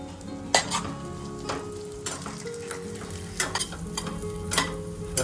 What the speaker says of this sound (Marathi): त्यावरती हे आपलं गरम झालेलं तूप टाकून तुपामध्ये आपण छान परतून घ्यायचं